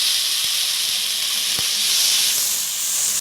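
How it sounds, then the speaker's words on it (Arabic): Vinegar splashed into a pan of onions and garlic frying golden in oil for Egyptian koshari, giving a loud, steady steaming hiss that holds for about three seconds and then cuts off. "بننزل بنقطتين خل، مش كتير، هي معلقة خل واحدة."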